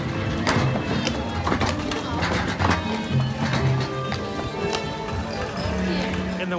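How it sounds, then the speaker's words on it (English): Horse hooves clip-clop in a steady walking rhythm on pavement at Magic Kingdom, Walt Disney World, mixed with crowd chatter and people talking nearby. "That is one nice looking horse right there."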